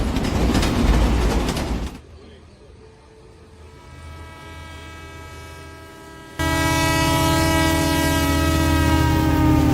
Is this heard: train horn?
yes